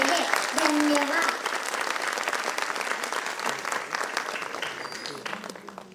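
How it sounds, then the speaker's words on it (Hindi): An audience at a preschool annual function applauds to welcome the chief guest, loud sustained clapping that is dense and close, then gradually thins and fades over six seconds. "तो आइए ऐसे महान अतिथि का तालियों के गूंज के साथ स्वागत करते हैं।"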